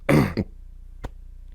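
A short, throaty throat-clearing burst followed by a brief grunt, then a quick sharp sound a moment later, close and alone.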